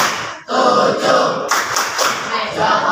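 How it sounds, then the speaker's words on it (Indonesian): Applause from a group, likely a classroom or teacher workshop audience, with dense continuous hand clapping that stays loud and steady through the whole stretch after a brief dip at the start. "Terima kasih tepuk tangan untuk kita semua"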